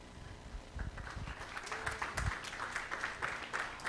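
A crowd at a startup pitch event claps together in a soft, steady patter of many hands, fairly distant and continuing for several seconds.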